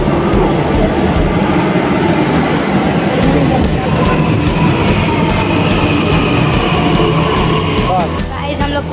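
A Delhi Metro train pulls into the station with a loud, continuous rumble and rail noise filling the whole stretch, amid busy platform ambience.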